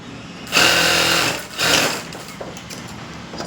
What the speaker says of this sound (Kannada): ಅದನ್ನು ನೀಟಾಗಿ ಒಳಗಡೆ ತೊಳ್ಕೊಂಡು ಏನಿದೆ ಆ ಮಾರ್ಜಿನಿಗೆ ಮಾತ್ರ ನಾವು ಸ್ಟಿಚಿಂಗ್ ಹಾಕ್ಕೋಬೇಕು.